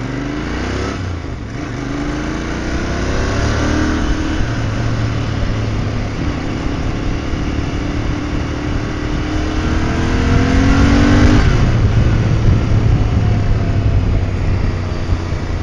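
A Royal Enfield Interceptor 650 motorcycle accelerates through its gears, the close engine note climbing in pitch twice in rising sweeps over a constant road and wind rush.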